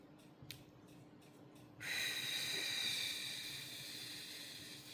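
Slow controlled breath during a 4x4 box breathing exercise, a few soft puffs and then a long steady hissing exhale close to the microphone, with no talking.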